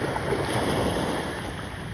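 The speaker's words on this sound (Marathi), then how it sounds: "ही इकडे फेरी लागली आहे" A ferry at Dabhol jetty on the Konkan coast: a steady, close wash of water and engine rumble with wind buffeting the microphone throughout.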